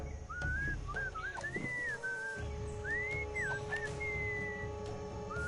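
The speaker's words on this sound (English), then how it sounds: "What is that enchanting whistling sound?" Melodic whistling in the Sam and Max adventure game, a wavering tune of rising and falling phrases over a steady background hum.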